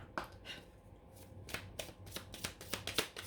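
A deck of oracle cards is shuffled by hand for a card reading, giving a run of crisp, rapid riffling bursts that quicken and grow denser toward the end, close and fairly quiet with no talking.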